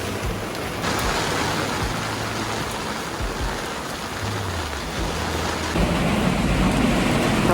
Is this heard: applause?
no